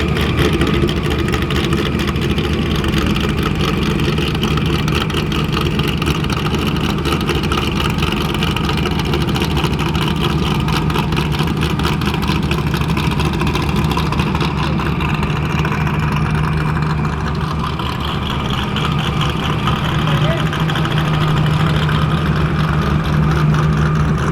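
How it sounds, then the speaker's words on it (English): Off-road vehicle engines idle together at a desert staging line, a loud, steady, low rumble that holds without a break throughout, close and heavy with no talk over it. "Gotta sit there and listen to them idle, get them staged, get them ready"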